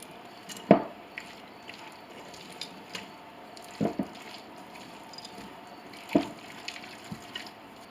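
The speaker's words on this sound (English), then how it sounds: "Now you just want to give this a stir." A utensil stirs a pea and peanut salad in a bowl, giving three or four soft, wet, squishy scrapes spaced a few seconds apart over quiet background, with no talking.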